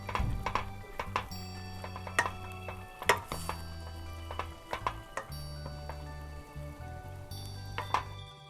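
A spoon stirs cooked mung beans in a pot of stew, making soft irregular scrapes and clicks against the pot. A low steady hum runs underneath.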